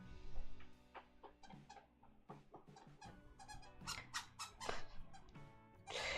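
A little puppy squeaks and whimpers in a series of high, thin, close cries of varying length, fairly faint, with soft bumps between them.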